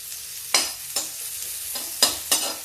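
Onion frying in oil with cumin and asafoetida, a steady close sizzle broken by about five sharp scraping stirs of a spoon against the pan, no voices.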